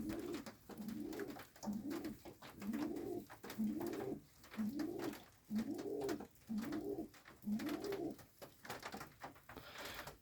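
Pigeons coo from a homemade dovecote at a country cottage, a steady run of about eight rounded, rolling calls repeating roughly every second, close and clear with no talk.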